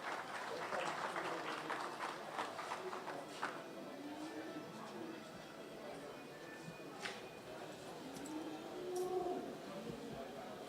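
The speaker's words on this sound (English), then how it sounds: "a huge round of applause for our champion handlers today" Applause from a crowd at the Emerald Expo show, Virginia Showgrounds, for champion handlers, steady clapping across the whole stretch with voices mixed in underneath.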